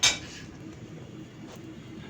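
A metal tawa griddle clanks down onto the stove in one sharp, close hit, followed by a quiet kitchen hum with a faint scrape.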